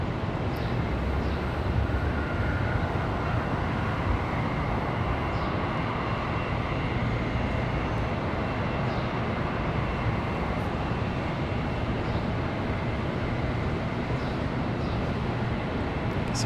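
An American Airlines jet at Charlotte Douglas airport gives off a steady, broadband roar that holds constant and fairly distant throughout, with no talk.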